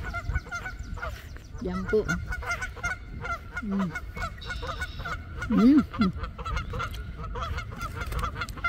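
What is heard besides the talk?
goose honking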